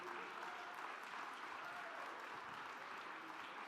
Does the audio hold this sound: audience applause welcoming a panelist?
yes